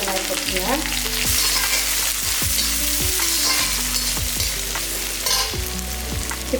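Onions frying in a pan with curry leaves and chili for a vegetable sambar and cabbage poriyal lunch, a loud steady sizzle with occasional stirring clinks and scrapes throughout.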